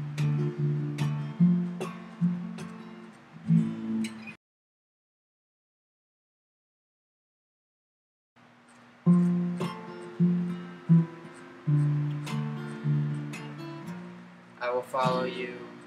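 Strummed guitar playing the chords of a song, rhythmic chords that stop for a few seconds of silence and then resume, close and clear.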